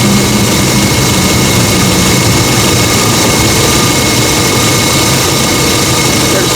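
A car engine idles steadily and loudly at close range, a constant even hum with no revving or stumble, with no other sounds.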